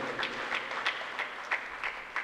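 Applause from a congregation at a Catholic church festival Mass, a steady wash of many hands clapping with regular louder swells, continuous throughout and free of talk.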